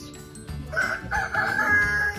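A rooster crows in a long, drawn-out call amid background noise and other farmyard sounds.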